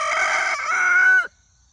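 A rooster crows loudly and close by in one sustained call lasting over a second, cutting off abruptly into silence.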